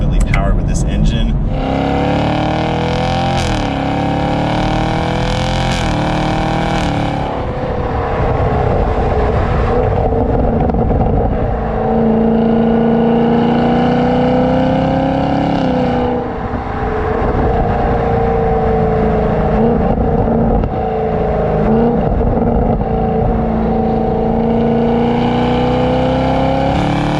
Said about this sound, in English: That is a good sounding muscle car for sure.